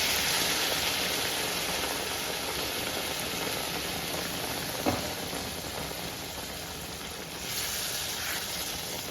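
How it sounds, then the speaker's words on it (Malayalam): Hot water is added to Kerala-style soya roast curry in a hot pan, giving a steady, fairly quiet sizzling hiss that runs throughout, with one soft knock midway. "ഞാൻ ദേ വെള്ളം ചേർത്ത് കൊടുക്കാണ്."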